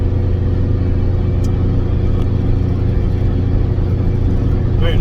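A car drives along the motorway across the Thelwall Viaduct, a steady loud low rumble of engine and road noise holding constant from start to finish with no talking.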